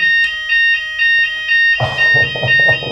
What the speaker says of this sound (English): In case that wasn't obvious, that was a fire alarm.